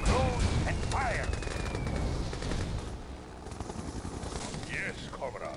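Dense gunfire and bursts of machine-gun fire from the Red Alert 2 strategy game rattle continuously, with bright weapon chirps and effects on top and a voice briefly heard in the mix.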